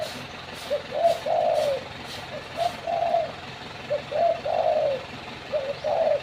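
A wild decoy dove coos in repeated multi-note phrases, several bursts spaced evenly over a steady outdoor hum, close and clear.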